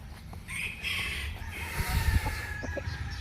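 A rooster crows loudly over a noisy farmyard, with clucking and rustling around it, at a gamefowl breeding farm.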